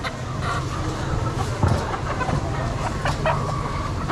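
Chickens cluck at a busy morning agricultural market in Luang Namtha, with native-breed hens and ducks kept there for sale. The clucks come intermittently and mid-distance through a steady crowd hubbub.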